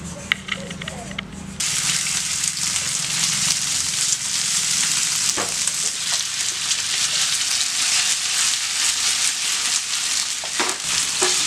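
Chicken frying in a little refined oil in a pan gives a steady, dense sizzle that rises sharply after a quieter opening and then holds loud and continuous, with occasional crackles and pops and no talk.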